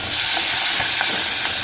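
Green chilli and curry leaves frying in hot oil with asafoetida, a dense close sizzle with bursts of crackling spatter throughout.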